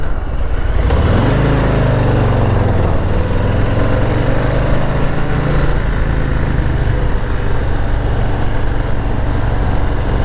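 A 2022 Harley-Davidson Low Rider S motorcycle engine starts and settles into a loud, close, deep, steady idle that continues without talk.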